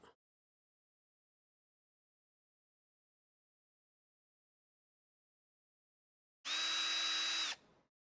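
A power drill bores out holes in a Casadio Unimog model kit: after long silence, one close, loud, high steady whine lasts about a second and stops.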